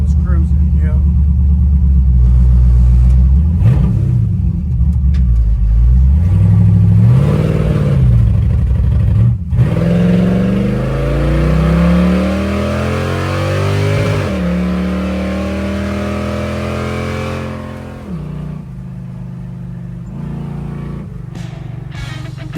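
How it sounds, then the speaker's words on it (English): A carbureted 5.3 LS V8 with short headers and forward mufflers runs loud and close, its low rumble swelling and easing through revs while people talk over it. "A little loud. Short headers and forward mufflers."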